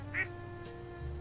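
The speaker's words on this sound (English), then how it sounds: "They make little duck noises." A single short duck quack from a turtle creature in the World of Warcraft video game, brief and clear over a faint steady ambient game backdrop.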